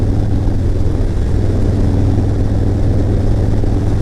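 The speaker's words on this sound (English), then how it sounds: "The wind and the sound of the bike" Motorcycle engine drones steadily and close while riding, with rushing wind noise blended in throughout and no voices.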